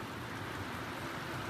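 Heavy monsoon rain pours down in a dense, steady hiss with no let-up, faint and continuous, with no voices.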